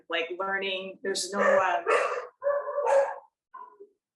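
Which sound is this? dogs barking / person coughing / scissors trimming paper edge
dogs barking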